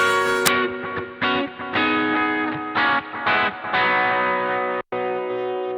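Electric guitar run through a Boss GT-1 crunch preset, strummed chords ringing with overdriven grit, several sustained hits separated by brief gaps, close and loud with no talking.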